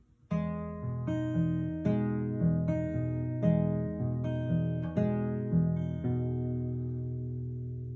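A guitar plays a short repeated passage from a song, about eight plucked notes and chords in a steady rhythm, ringing clearly and close with no talking.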